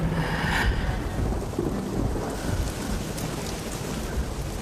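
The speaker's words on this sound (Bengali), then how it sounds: "দেখো বৃষ্টি এসেছে" Steady heavy rain pours down with deep thunder rumbling through it, a dense, continuous wash of sound with no voices.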